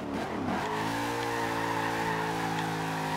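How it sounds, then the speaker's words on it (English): Tires screech and slide as a car drifts through winding bends in the racing game Forza Horizon 2, a steady, loud engine drone with sustained skidding squeal running throughout, no talking. "There are the drifts I'm talking about."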